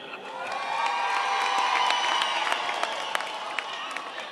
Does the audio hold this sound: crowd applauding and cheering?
yes